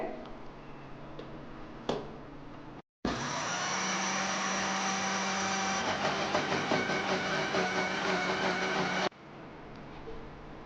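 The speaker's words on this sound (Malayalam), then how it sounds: "അപ്പോൾ മിക്സിയുടെ ജാറിലേക്ക് ആദ്യം അരി ഇട്ട് കൊടുക്കാം" An electric mixer grinder grinds soaked rice with water in its jar for pesaha appam batter, a loud steady whirring drone running for about six seconds after a brief pause, with quieter kitchen sounds before and after.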